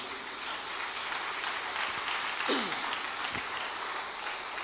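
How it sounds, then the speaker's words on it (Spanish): Church congregation applauding in praise during a sermon, a steady broad clatter of clapping from many hands at moderate volume, continuing evenly with a voice briefly rising over it. "¿Cuántos le dan un aplauso de gloria a nuestro Dios?"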